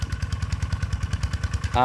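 The 1990s Singh Kanong Na walking tractor engine chugs close and loud, with rapid, steady low thumps, working a wet rice field. A brief harsher burst comes at the very end.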